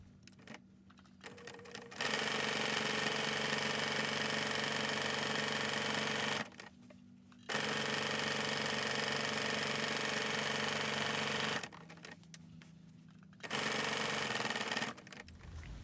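A sewing machine quilting a placemat runs in three steady, close whirring stretches, separated by short pauses and quieter moments in between.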